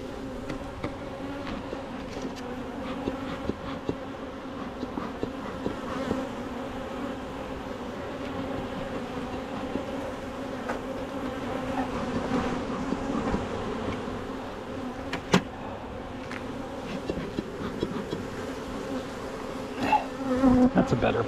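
Honey bees buzz steadily throughout an open beehive inspection at an apiary, a dense, continuous hum of many insects close by, with a few faint knocks and handling sounds near the end.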